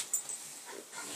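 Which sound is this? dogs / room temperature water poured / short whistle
dogs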